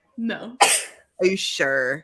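A single sharp sneeze bursts out close to the mic between two short bits of speech from people talking.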